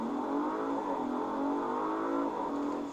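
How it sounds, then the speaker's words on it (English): A 2022 Audi RS5 accelerating hard under full throttle, its engine a loud continuous rising roar heard from inside, with a brief dip at a gear upshift before it climbs again, no talk. "But those upshift sounds sound awesome."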